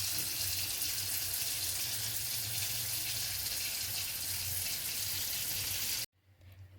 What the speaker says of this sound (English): I'm going to add in some cold water